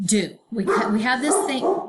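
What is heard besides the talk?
dog barking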